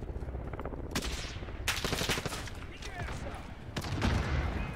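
Gunfire rattles in the Warzone video game: sharp overlapping bursts and rapid shots at close to mid range, loud and repeated throughout, with voices talking over the action.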